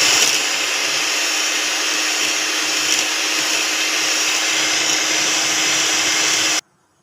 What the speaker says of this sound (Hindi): मैं यहाँ पे इलेक्ट्रिकल बीटर का इस्तेमाल कर रही हूँ।